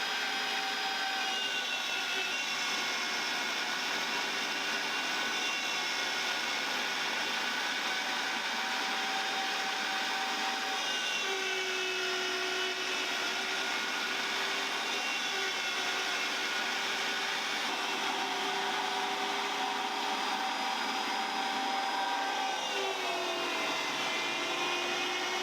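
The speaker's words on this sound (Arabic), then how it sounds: "هلا اول شي البرغل مع البصل مع البهارات رح نطحنها" An electric grinder steadily churns bulgur with onion and spices for Aleppo-style kibbeh, a loud continuous motor whine with shifting tones as the load changes, running unbroken throughout.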